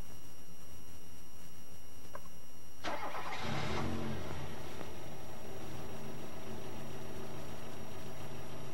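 A car engine cranks and catches during a fuel pressure test of an electronic fuel injection system, a short burst of starter noise followed by the engine settling into a steady run, with no talking.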